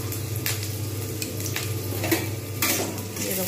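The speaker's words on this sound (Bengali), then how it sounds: "এবারে আমি পেঁয়াজগুলোকে খুব সুন্দর করে ভাজবো।" Onions frying in oil in a wok, a steady sizzle with repeated spatula scrapes and stirring strokes, close and continuous.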